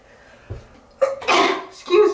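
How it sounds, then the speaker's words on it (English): A single sneeze, close and fairly loud, with a quick breathy intake just before the burst and a short vocal tail after it. No talk is heard around it. "Oh gosh, I feel like I'm gonna sneeze"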